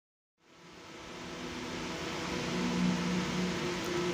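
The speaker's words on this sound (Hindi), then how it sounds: "फिर से हम इसको सिलाई मार के देखते हैं।" A silai (sewing) machine with a large machine shuttle being timed stitches steadily after needle adjustment, a continuous whirring drone that starts abruptly and runs on alone, fairly loud and even.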